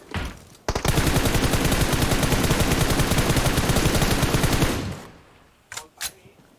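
Sustained burst of rapid gunfire from PUBG Mobile, loud and dense for about four seconds, followed by a couple of short, sharper shots near the end.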